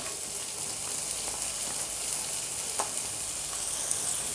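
Onion, ginger and garlic pieces frying in hot oil for egg fried noodles give a steady, bright sizzle with faint crackles and a few soft stirring scrapes, close and continuous throughout.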